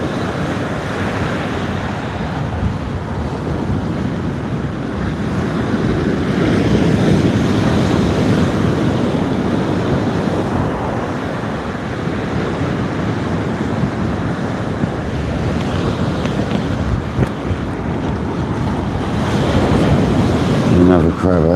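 Strong sea wind buffets the microphone over rolling surf and choppy waves during kayak fishing at sea, a loud steady roar with gusting swells throughout and occasional voice.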